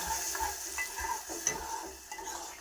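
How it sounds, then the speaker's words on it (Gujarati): Barnyard millet (moraiyo) is tempered and stirred in a pan, giving a soft continuous sizzle with repeated scraping strokes of a spoon at a moderate distance, no talking. "મોરૈયો વઘારે છે મોરૈયો"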